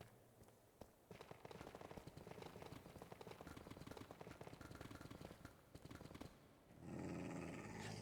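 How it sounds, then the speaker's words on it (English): A dog in a Minecraft game growls with rapid, rasping rumbles over a few seconds, fairly close and very low in level, ending in a short burst of different game noise. "I think dog wants to attack me."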